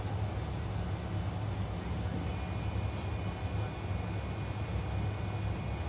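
Cockpit ambience of a Fokker F28 jet in Microsoft Flight Simulator 2020 as the flaps extend: a steady low engine and airflow drone with faint whining tones and a soft mechanical hum, no voices.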